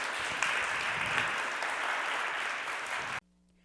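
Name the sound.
audience applause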